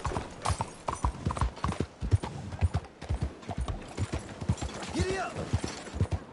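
A horse gallops in Red Dead Redemption II, with rapid rhythmic hoofbeats and creaking tack close by, a brief whinny near the end, and someone speaks over it at moments.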